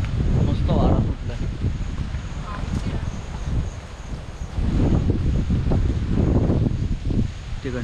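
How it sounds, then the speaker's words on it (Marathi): Wind gusts hard across the microphone at Casuarina beach resort in Nagaon, a rough, rushing roar that swells and eases in waves, loud and close. "मस्त वारा सुटला."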